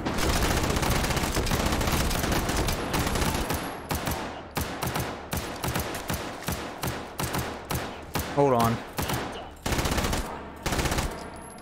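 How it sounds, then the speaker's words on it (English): Gunfire in the VR shooter H3VR: dense, loud automatic bursts at first, then separated volleys and single shots in an uneven rhythm, with a brief spoken remark. "I'm trying to shut up the gunfire here."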